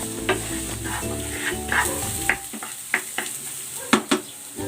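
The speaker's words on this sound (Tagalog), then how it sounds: "Ayan, nagisa na ako ng bawang. Lalagay ko na rin tong sibuyas." Garlic and onion sauté in cooking oil in a pan, with a steady sizzle and frequent sharp scrapes and taps of the stirring utensil that grow sparser toward the end.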